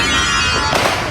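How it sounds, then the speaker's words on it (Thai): Firecrackers at the Phuket vegetarian festival at night crackle in a loud, unbroken barrage of rapid bangs, close by and filling the whole moment. "นั่นคือเสียงลูกบประทัด"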